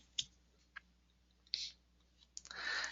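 Mouse clicks in a quiet room, a few sharp isolated taps spaced apart, followed by a soft rustling noise near the end.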